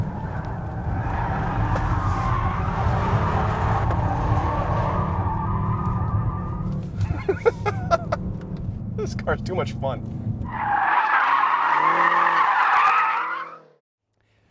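A 2013 BMW M5 F10 skids its tires on a test track, with a sustained, loud squeal layered over engine roar and a voice talking through it, before the sound cuts off abruptly.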